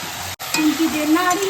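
Spice paste is stirred and fried in a pan, giving a close, fairly loud sizzle with scraping stirs after a short pause, while a faint tonal background hum runs alongside.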